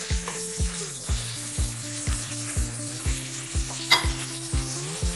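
Lamb shanks with thyme and bay leaves stirred in a sizzling pot: steady, close frying hiss with a regular rhythm of soft scraping strokes, roughly two per second, and an occasional brighter knock of the utensil against the pot.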